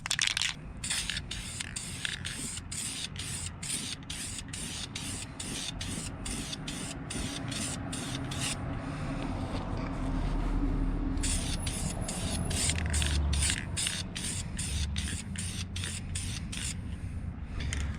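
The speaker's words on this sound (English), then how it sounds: "So I'll also get some paint on these tires" A spray can hisses continuously as car tires are painted black, with rapid rhythmic rattling clicks from the can heard at the start and again near the end, close and steady throughout.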